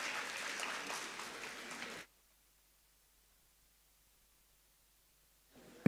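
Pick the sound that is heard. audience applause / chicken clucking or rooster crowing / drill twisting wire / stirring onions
audience applause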